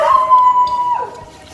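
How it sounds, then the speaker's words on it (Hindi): Dogs outside a house window during Diwali cleaning, heard as a drawn-out howl or whine with a steady tone that slides downward, moderately loud and somewhat distant, with no talk. "कुत्ते भी भौंक रहे हैं।"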